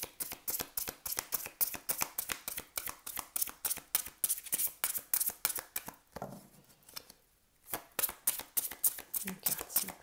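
A deck of tarot cards is shuffled and drawn by hand, producing a rapid, rhythmic run of crisp riffling snaps up close. A brief softer pause falls midway before the quick card flicks resume.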